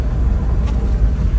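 A 2000 Smart City Coupe drives along a private road, its engine giving a steady low rumble heard from inside the cabin, loud and continuous with no talking.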